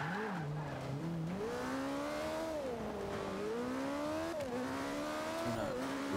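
A car's engine revs up and down in wavering pitch sweeps while tires squeal and skid, loud and continuous throughout with no voices.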